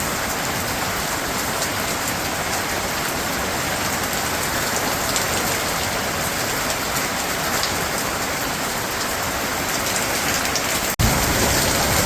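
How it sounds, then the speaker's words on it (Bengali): Heavy rain pours down during a storm in a Bangladeshi village, a dense, unbroken hiss of downpour on surfaces, close and loud, with one sharp click near the end. "এই যে বৃষ্টি শুরু হয়ে গেছে,"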